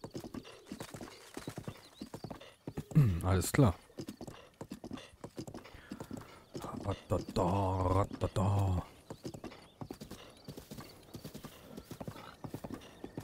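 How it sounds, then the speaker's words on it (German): Rhythmic clip-clop of horse hooves in Legend of Zelda: Breath of the Wild runs throughout, with a brief whinny and short bursts of talk layered over the steady trotting. "Das Pferd hatte Angst vor einem Baumstamm."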